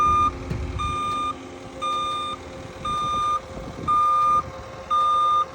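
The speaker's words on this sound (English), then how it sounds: "Got my skid steer hooked up to the soil conditioner." A skid steer hooked to a Harley rake soil conditioner backs up with its reversing alarm, six loud evenly spaced beeps about a second apart over a low engine rumble.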